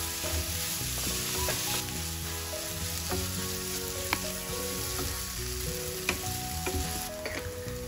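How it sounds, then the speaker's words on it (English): Grated paneer stirred and mixed with masala in a hot frying pan, a steady close sizzle with repeated scraping and tapping of the spatula throughout. "Now add the grated paneer and give it a good mix."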